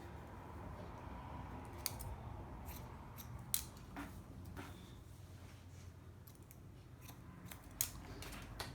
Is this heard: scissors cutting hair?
yes